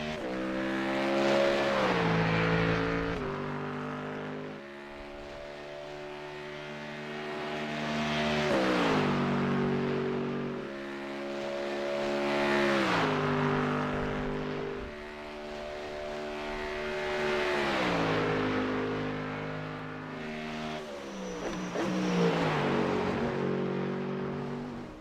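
A Mustang GT3 race car engine roars around a track, rising and falling in repeated waves as it accelerates and passes, loud with no talk.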